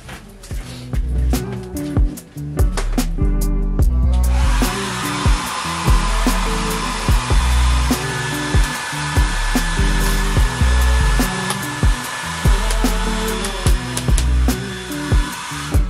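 A portable heater runs loudly inside an old pop-up camper, a steady blowing roar after a few sharp clatters at the start, with occasional knocks over the constant hum.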